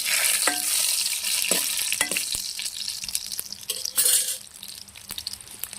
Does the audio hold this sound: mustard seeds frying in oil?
yes